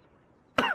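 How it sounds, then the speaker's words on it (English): A person chokes on blood and lets out a single short, harsh cough after a moment of near silence. "He's choking on his blood. He was coughing."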